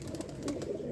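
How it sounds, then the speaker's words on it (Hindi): An agitated pigeon, a Sialkoti bird held in hand, gives low, rolling coos close by, a continuous murmur with soft pulsing rather than distinct calls. "नाराज़ हो रहा है कबूतर"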